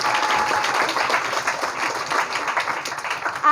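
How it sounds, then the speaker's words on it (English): A school assembly audience of guests, teachers, staff and students claps in a sustained, fairly loud round of applause, with dense overlapping hand claps and slight swells through the stretch. "Let us give everyone a warm round of applause."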